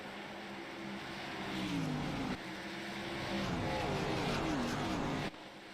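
Race cars starting at Dover in a sim racing video game, a swelling chorus of engine drone with rising pitch sweeps as the pack accelerates, then an abrupt drop near the end.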